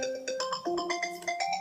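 A phone ringtone plays a bright, tuneful chime melody of quick repeating notes, clear and close, with no talking over it.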